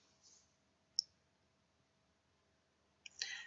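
Computer mouse clicks on a PC, a few crisp, close clicks separated by quiet pauses, with a quick double click near the end.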